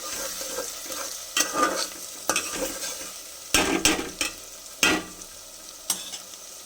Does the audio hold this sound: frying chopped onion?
yes